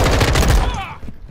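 Modern Warfare II multiplayer gunfire, a loud burst of rapid shots that cuts off within about a second, with a voice heard briefly under it.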